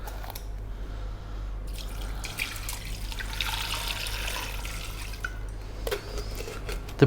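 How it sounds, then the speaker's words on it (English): Water is poured into a pot holding camel meat, whole spices, green cardamom and a dried black lime for a Khaleeji dish, a steady close splashing trickle over a low background hum. "We're going to add water."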